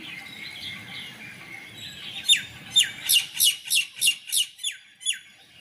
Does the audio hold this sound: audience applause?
no